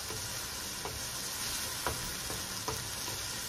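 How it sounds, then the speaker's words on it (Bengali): Onion, green chili and garlic fry gently in a pan, a steady soft sizzle broken by several scraping stirs of the spoon, with no talking. "পেঁয়াজ রসুনটা হালকা ভাজা ভাজা করবো না, জাস্ট একটু সিদ্ধ হওয়া পর্যন্ত আমি নেড়ে চেড়ে"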